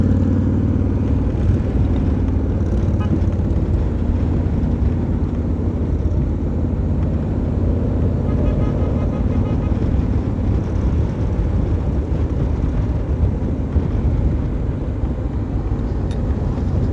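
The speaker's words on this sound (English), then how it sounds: "Here comes the president on a big motorcycle" A big motorcycle rumbles in at an outdoor event, its engine a deep, continuous low drone that holds steady and fairly loud throughout.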